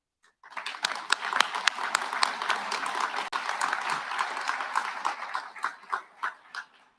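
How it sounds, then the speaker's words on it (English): A police academy graduation audience breaks into a round of applause, dense clapping from many hands starting abruptly and holding steady, then thinning to a few separate claps at the end. "I want to thank each and every one of you with a round of applause"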